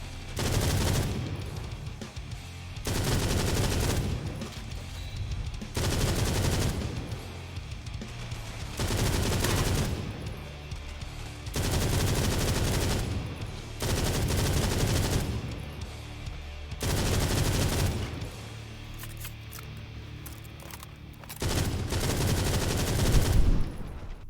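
Machine gun bursts in the World War Heroes video game, several sustained rattling volleys of rapid fire separated by short pauses, loud and close with no talk over them.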